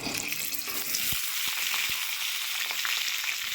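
Potatoes fry with salt and turmeric in hot mustard oil in a wok, giving a steady, close sizzle with a few soft clicks of stirring.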